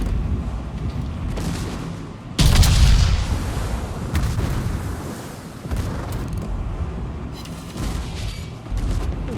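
Naval artillery shells striking a ship in the warship battle game World of Warships, a heavy booming impact that swells suddenly and then rumbles on in a long, dense roar of explosions and battle noise.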